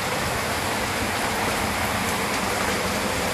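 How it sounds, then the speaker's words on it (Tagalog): Heavy floodwater rushes steadily during Typhoon Carina in Malabon, a loud, continuous broadband roar and wash with no breaks, close by and filling the whole short stretch alone. "Baha na dito."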